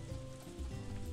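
Steady rain falling in the farming game Story of Seasons: A Wonderful Life, a continuous soft hiss of drops that runs unbroken from start to finish with no voices over it.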